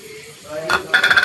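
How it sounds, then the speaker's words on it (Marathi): Spices being stirred into frying tomato chicken gravy in oil: a short burst of sizzling with scraping and clinks from a spoon against the pan, close and moderately loud. "मसालेही छान ह्याच्यामध्ये मिक्स करून घ्यायचे।"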